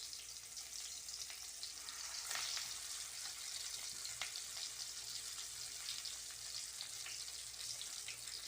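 Shami kabab patties fry in a pan of oil with a steady, bright hiss that runs without a break. The sound is moderately loud and close, and a couple of faint pops rise out of it.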